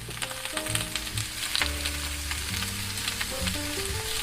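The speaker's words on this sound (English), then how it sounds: "Keep stir-frying them for 30 seconds until the bean sprouts start to soften a little." Bean sprouts, cabbage and bell peppers sizzle in a hot pan while being stir-fried, a continuous crackling hiss with scattered pops and clinks of the utensil, close and unaccompanied by speech.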